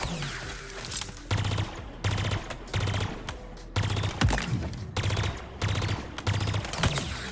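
The Pulse Carbine from the video game Halo Infinite fires in repeated bursts. Each rapid burst of shots is followed by a short pause, in a steady rhythm close up, with some faint ambient game sound in between.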